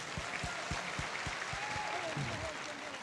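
Audience applause at a Taiwan People's Party members' meeting, a steady wash of clapping with rhythmic low thumps and a voice talking over it.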